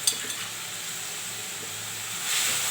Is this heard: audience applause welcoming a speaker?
no